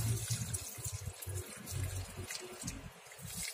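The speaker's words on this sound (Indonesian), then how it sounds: "Tanaman bawang prainya kita siram sampai full." Water poured onto newly planted leek plants in a polybag makes a close, splashing, gurgling trickle that runs steadily with small breaks, no one speaking.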